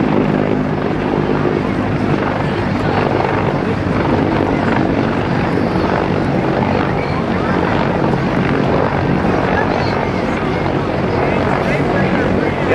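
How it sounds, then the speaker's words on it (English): An MH-53 helicopter drones loudly and continuously overhead at an airshow at NAS Oceana, its rotor thrumming steadily without fading for the whole stretch. "as we have the MH-53 helicopter over top once again"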